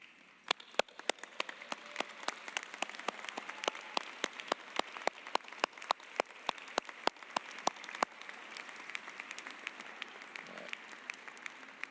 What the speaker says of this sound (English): Graduates, please stand and applaud.